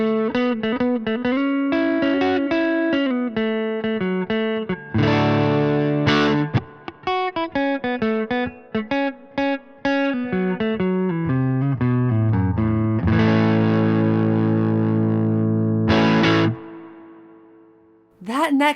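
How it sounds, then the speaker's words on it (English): A PRS semi-hollow offset electric guitar played through its neck pickup with overdrive gives warm, thick, sustained single notes and chords. The playing is close and continuous, with a few brief breaks and a short pause near the end. "That neck pickup sounds really nice and buttery with some overdrive."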